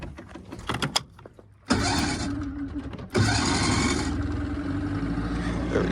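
A boat's outboard motor on the water catches after a couple of sputtering bursts and then runs at a rough, steady idle, as if starting to run out of fuel.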